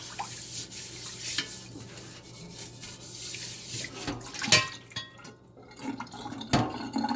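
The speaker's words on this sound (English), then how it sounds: "One quick rinse, I guess you could say." A cast iron pan gets a quick rinse under a running tap, with water splashing and dripping against the metal and occasional knocks from the pan being handled nearby.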